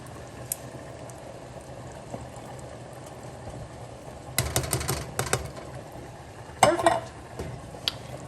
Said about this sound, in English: And then we just kind of mix this all together.